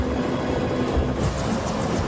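Steady drone and whir of a helicopter, continuous and fairly loud, with no voices.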